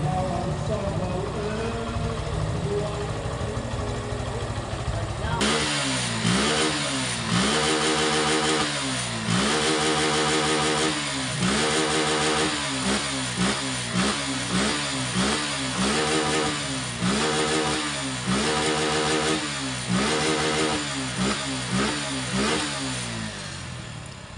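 A Suzuki Gixxer fuel-injected motorcycle engine starts after a repair and settles into a loud, close idle. It then revs repeatedly in a regular rhythm of rising and falling throttle blips.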